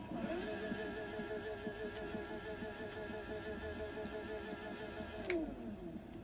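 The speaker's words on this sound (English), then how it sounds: "it has a quiet engine, just listen to this." A quiet car engine from the Forza Horizon 3 racing game, holding a steady low hum with layered tonal harmonics throughout, loud and close, with a brief rise in pitch near the end.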